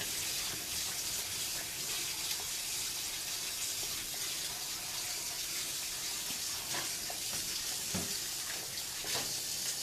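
A cast iron pan rinsed under a running tap, with steady broadband water rush throughout and occasional clanks and scrapes of the pan near the end.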